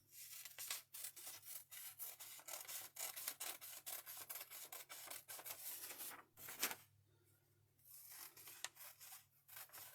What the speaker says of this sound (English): I am going to go around and cut that off.